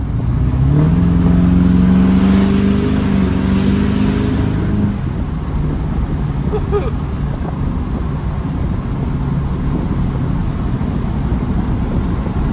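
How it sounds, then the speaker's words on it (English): An LB7 Duramax diesel truck with an aftermarket intake pulls hard under acceleration. A loud, steady engine roar carries a rising turbo whine early on, all over heavy wind rush. "Man, it sounds good, and you can tell when that turbo picks up and spools up."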